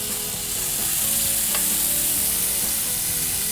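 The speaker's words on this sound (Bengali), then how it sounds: "এটা কি অনেক অল্প পরিমাণ তেলে ভাজতে হবে?" Chicken sautéing in about a teaspoon of oil, a steady close sizzle and fry with stirring scrapes running throughout, no voices.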